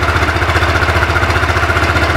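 A motorcycle engine idles steadily nearby while charging its battery, a loud, even, pulsing chug with no talking.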